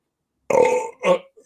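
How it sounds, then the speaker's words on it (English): A single loud, close belch from a man, split into two guttural bursts over about a second, standing alone in otherwise silent surroundings. "I'm about to belch."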